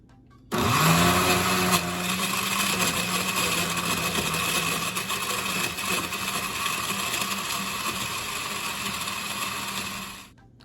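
A blender whirs loudly and steadily as it purees a smoothie, its motor kicking in abruptly near the start and running for about ten seconds before cutting off, with no talking over it.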